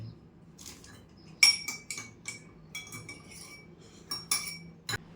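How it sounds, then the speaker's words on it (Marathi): A spoon stirs milk into lassi in a glass, clinking repeatedly against the sides in irregular quick bursts, close and bright, with a sharper final tap at the end. "मी अजून दूध टाकेल टाकलं अजून मिक्स करेल"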